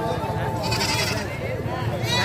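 Goat bleating amid a crowded temple gathering near a pond at Kumar Mandir in Jamui, wavering cries heard under ongoing talk and crowd noise.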